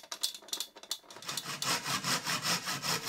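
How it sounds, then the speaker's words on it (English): A pull saw trims excess pattern plywood in quick rasping strokes, a few sparse ones at first and then a steady faster rhythm of close, even cuts, near and distinct with no talk. "I could trim off the excess again with a pull saw"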